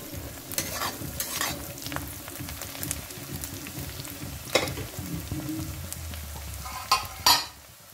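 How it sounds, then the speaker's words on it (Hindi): Steady sizzling of onion and garlic frying in a pan for dal tadka, with a few louder clatters and scrapes of stirring near the end. "इसे कम आंच पर मुझे फ्राई करना है। प्याज लहसुन अच्छी तरह से पक गया है।"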